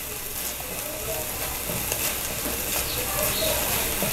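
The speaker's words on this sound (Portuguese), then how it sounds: "E vou deixar eles refogar aqui no meio." Garlic and calabresa sausage sauté in a pan with a steady, close crackling sizzle and light scattered pops, constant in level throughout.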